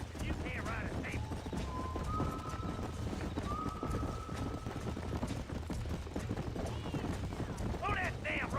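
Wild horse in the Red Dead Redemption video game, heard as rapid clip-clop hooves pounding along with several shrill neighs and whinnies, mixed with low rumbling game noise, steady and fairly close.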